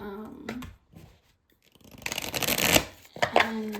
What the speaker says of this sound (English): Personally, I have not had trouble riffle shuffling.